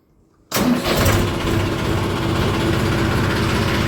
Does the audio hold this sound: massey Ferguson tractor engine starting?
yes